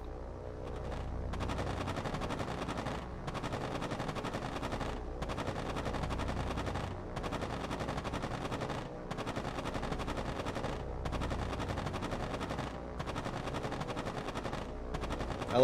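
Bomber defensive machine guns in the naval combat game War on the Sea fire in long sustained bursts separated by brief pauses, a steady rattling chatter with no voices.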